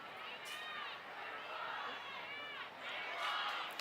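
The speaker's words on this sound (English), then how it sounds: "the crowd gave a cheer thinking it might be a turnover on downs" A crowd at a high school football game cheers and roars from the stands, a steady, distant-sounding swell of many voices mixed with a commentator's talk.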